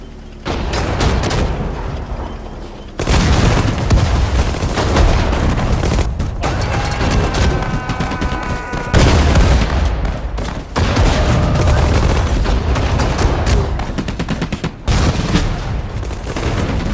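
Gunfire from a World War II battle in the real-time strategy game Sudden Strike 4, with dense rifle and machine-gun bursts and heavy booms layered into a continuous loud barrage that drops out briefly twice.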